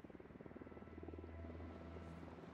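A helicopter in the Ghost Recon Wildlands video game drones steadily with a fast, rhythmic rotor chop and a low engine hum, fairly loud and sustained, with no one talking over it.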